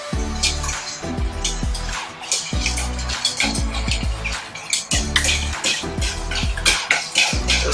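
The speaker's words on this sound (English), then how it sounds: "So we're just going to whisk it together." Ingredients for apple cinnamon bread, including vegetable oil, whisked in a bowl, with rhythmic metallic clinks and scrapes in quick repeated strokes, close and clear, with brief pauses between bursts.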